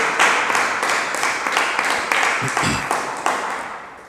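Church congregation claps loudly in a steady, dense burst of palms that fills the whole stretch, with no talking over it.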